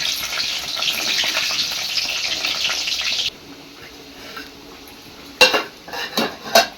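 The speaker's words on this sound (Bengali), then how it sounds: "এবার আমি আলুগুলো ভাজে নিব। আলুগুলো লাল লাল করে ভাজে নিতে হবে" Potatoes frying in a pan for restaurant-style chicken biryani, with a loud, steady sizzle for about three seconds, then quieter background and a few sharp clinks of a utensil against the pan.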